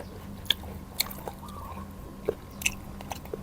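Someone bites and chews crispy food, likely the bitter melon or red sausage named in the title, with a handful of sharp, close crunches spaced apart over a quiet background.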